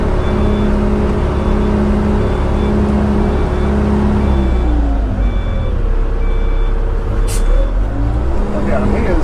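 A dump truck maneuvers and reverses across a driveway, its low diesel rumble steady throughout while a repeating reverse alarm beeps at an even pace through the first half, then the engine note shifts as it repositions.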